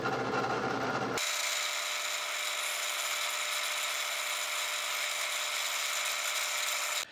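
A power tool drills into a urethane resin casting held in a jig, a continuous high whine running steadily for several seconds after a brief lower-pitched start, close and alone, then cutting off abruptly.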